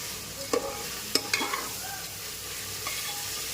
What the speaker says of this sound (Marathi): थोडा बारीक गॅस करायचा आणि परतून घ्यायचं